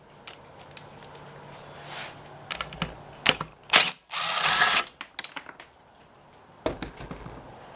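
A ratchet clicks in scattered short bursts with one longer run of rapid ratcheting while removing a 5/16 screw from the fuel tank of a 5HP Briggs and Stratton engine, heard close up with quiet gaps between.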